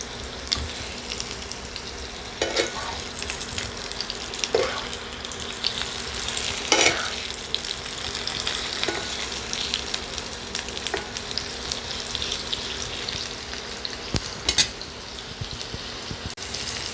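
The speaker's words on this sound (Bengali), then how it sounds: "সাদা তেল গরম হয়ে গেছে এবার দিয়ে দিচ্ছি আলু" Half-boiled potatoes frying in hot white oil, a steady loud sizzle and crackle with occasional clatter of a spatula, no talking.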